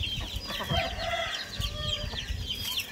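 A black-red rooster and his flock of five or six hens cluck and chatter near the mic in a farmyard. The calls are continuous and overlapping, with soft low footsteps and scuffles beneath.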